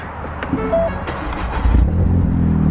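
A Ford Fiesta engine idles with a steady low rumble, briefly swelling louder near the middle before settling into a continuous running drone.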